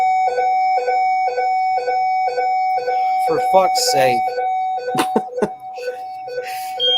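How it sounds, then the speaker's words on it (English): A fire alarm in a dorm room sounds as a loud repeating electronic beep pattern in steady pulses, while a person nearby speaks over it. "Is that a fire alarm?"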